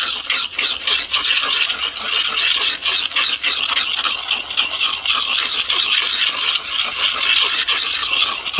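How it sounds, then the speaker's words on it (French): A sharpening stone rasps steadily along the blades of garden shears, a continuous close and loud gritty scraping in short curved strokes, with no talking over it. "La cisaille, vous prenez la pierre. Ah. Voilà, on fait des courbes."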